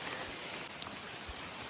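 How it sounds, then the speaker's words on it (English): Steady rain falls on a muddy uphill stretch of the Appalachian Trail between Hughes Gap and Carver's Gap, a constant soft hiss with scattered drop patter, fairly quiet and even. "We're still going up in the rain. Still raining."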